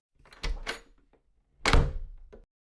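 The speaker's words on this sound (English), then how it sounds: "the door opened." Door opening in a luxurious setting, with two muffled thuds and rattling handle sounds in separate bursts, fairly close and with no talking.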